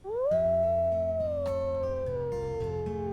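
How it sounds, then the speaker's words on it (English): A wolf in a wolf-pack video game lets out a long, loud, sustained howl that rises quickly, then slowly sinks in pitch, heard alone and clean with no talking. "Should we howl?"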